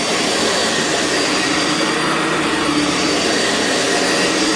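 A Sanitaire SC679 upright vacuum cleaner runs on carpet, a loud, steady, unbroken motor roar with airy rushing that stays constant throughout.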